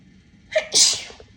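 A single sharp sneeze, close and loud, with a short inhaled catch just before the burst, then quiet.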